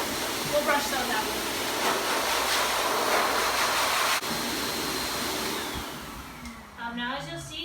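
A dog grooming blow dryer roars steadily as it dries a dog's coat, close and loud, with brief vocal sounds near the end as it tapers off.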